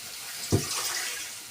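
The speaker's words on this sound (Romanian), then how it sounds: "Și punem puțin apă." A short splash of water goes into a cooking pot, a brief pour over a steady background hiss.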